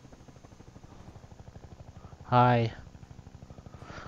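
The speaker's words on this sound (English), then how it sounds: "Combine chopper." A Combine helicopter from the Half-Life 2 video game thrums overhead with a rapid, even rotor chop that holds throughout. A brief spoken greeting cuts in midway.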